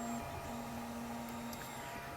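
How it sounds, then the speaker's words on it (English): A printer runs with a steady, low mechanical hum and faint whirring, alone and fairly quiet throughout. "Printer still running strong, doing all that shit."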